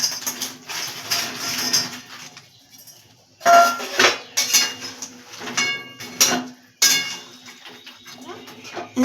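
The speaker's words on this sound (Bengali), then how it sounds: "দিয়ে এটাকে আমরা নাড়াচাড়া দিয়ে এবার ফুলকপিগুলোর পকোড়া আমরা এর মধ্যে ঢেলে দেব আস্তে আস্তে" Cauliflower pakoras are poured into a thick chilli gravy and stirred in a pan, with intermittent clattering spoon-on-metal knocks and scrapes in uneven bursts separated by short pauses, and a voice talking over them.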